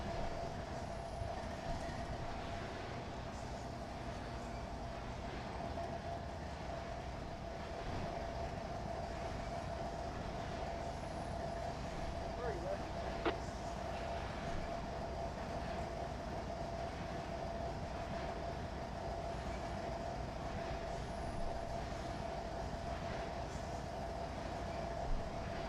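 CSX locomotive 772 running in the Trainz railway simulator, with a steady rumbling engine drone and a sustained tone that hold evenly throughout, plus a few faint clicks along the track.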